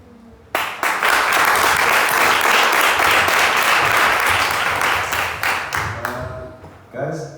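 An audience at a youth business symposium breaks into loud, sustained applause for young pitchers, a dense wash of clapping that swells suddenly, holds for several seconds, then thins out to scattered claps.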